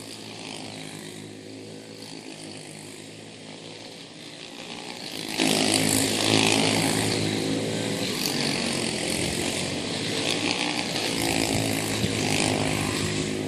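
Quarter midget race cars in a Light World Formula Cup race, several small high-revving engines buzzing loudly around the track, and the pack surges louder as it sweeps closer.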